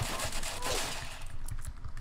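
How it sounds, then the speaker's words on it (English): Rapid bursts of gunfire from a gun in the video game Apocalypse Rising, a dense, continuous volley of shots heard up close for about two seconds. "switching back to my orange ammo gun"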